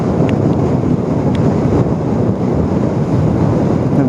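Sea waves break on the shore at Dhanushkodi, a loud, continuous wash of surf mixed with heavy wind buffeting the microphone. No one speaks.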